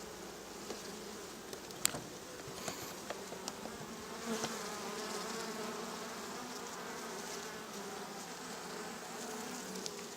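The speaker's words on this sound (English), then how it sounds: "These bees are getting a little agitated." Honey bees in an open hive buzz steadily during an inspection, a dense close drone that fills the whole stretch, with a few light clicks and knocks from handling.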